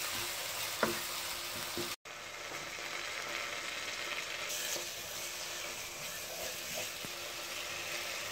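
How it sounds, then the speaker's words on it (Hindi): Mixed vegetable masala frying in ghee in a dhaba-style sabzi, with a steady close sizzle and occasional stirring scrapes and clicks throughout, no talking. "अब हम इसको तब तक भूनेंगे जब तक ये घी ना छोड़ दे मसाला हमारा।"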